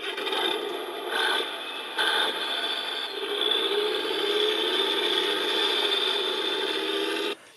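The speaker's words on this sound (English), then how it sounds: "You have a really nice kind of engine startup and then the rev of the engine, then it kind of drives away" Electronic engine sound effect from a 2015 Hess toy fire truck: a startup, a rev and a drive-away, heard as a steady, noisy, buzzy tone with short bursts early on, close and alone for about seven seconds.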